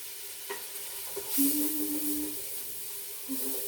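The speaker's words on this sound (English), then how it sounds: "Stir it around." Tomato chutney with chili powder sizzles softly in a hot pan while being stirred, making a quiet steady frying hiss with faint scraping, no voices.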